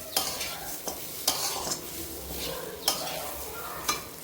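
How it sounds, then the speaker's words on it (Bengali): Spoon stirring dal and rice in a pot for khichuri, steady scraping and light sizzling with a few sharp knocks against the pot, close and clear. "ডালটাকেও দিয়ে দেওয়ার পরে আমি এরকমভাবে নেড়ে নেব।"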